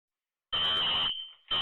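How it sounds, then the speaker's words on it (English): A fire alarm sounds inside a dormitory room in helmet camera footage, with a loud, shrill electronic tone that cuts in suddenly, holds, dips briefly, then blares again. "So automatically you hear the fire alarm going off."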